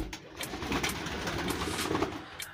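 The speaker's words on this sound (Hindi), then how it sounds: "ये माशाल्लाह पर पटाई वाले हमारे कबूतर हैं" Domestic pigeons with clipped wings, sitting together in the sunshine, coo steadily in a soft, continuous low murmur close by.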